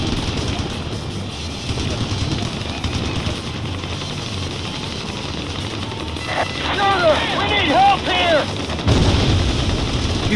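Gunfire in a combat video game: a continuous rumble of rapid shots and explosions, loud and close, with a brief high whine near the end.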